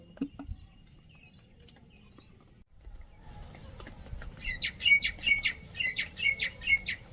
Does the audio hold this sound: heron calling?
yes